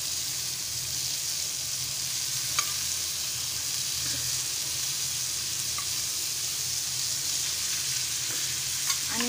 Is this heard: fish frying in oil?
yes